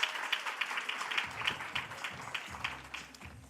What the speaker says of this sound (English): Please clap it up for Kelly Ellison one more time